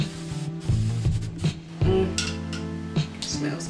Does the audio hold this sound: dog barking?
no